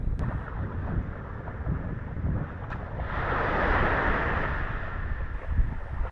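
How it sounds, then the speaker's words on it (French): Wind roars and buffets across the microphone during an ocean sailboat outing off Hendaye with a local club, a continuous broadband rush that swells slightly midway, with no voices. "rien de mieux qu'une petite virée en voilier avec le club local"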